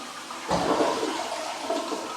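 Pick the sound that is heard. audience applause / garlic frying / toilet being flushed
toilet being flushed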